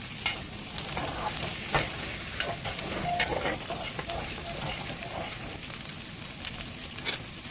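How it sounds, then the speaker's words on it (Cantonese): Udon noodles stirred through beaten egg in a hot pan for salmon stir-fried udon, giving a steady sizzle with repeated soft scraping and stirring strokes throughout, moderately close. "將啲烏冬同啲蛋液撈勻， 煮佢一陣。"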